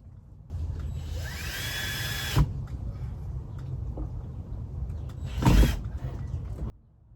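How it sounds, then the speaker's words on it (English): Cordless electric drill driving a screw into the center of an architectural wood piece mounted above a door, two whirring bursts with a rising pitch, separated by a pause, close up under light background noise. "now I'm taking my drill, I'm screwing in the center of the piece"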